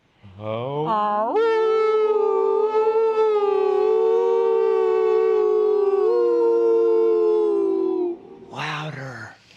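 A wolf howls alongside people who imitate it with their own howls. One long, sustained, wavering tone is held near and loud for several seconds, then breaks off, and a short yelp follows at the end.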